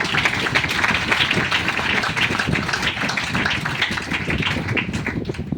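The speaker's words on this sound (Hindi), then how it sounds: "किसी को ना ताली दीजिए" An audience at a Patna branch meeting applauds in a steady, dense wash of clapping that holds evenly loud and unbroken from start to finish, with no voice standing out.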